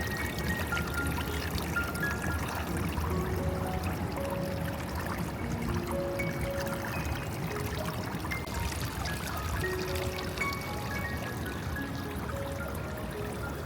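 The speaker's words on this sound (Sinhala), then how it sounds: "මම මේ පූල් එකේ වතුර ගලාගෙන යන සද්ද චුට්ටක් ඇහෙන්න දුන්නා" Water flows steadily into the swimming pool at the Cinnamon Life hotel, making a continuous splashing, trickling wash. Soft background music plays underneath.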